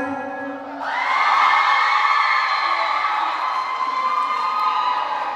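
An audience at a college English drama competition closing ceremony bursts into loud cheering for the Midwifery Department, high shrieks and whoops rising after a brief quieter moment and holding steady as a roaring crowd.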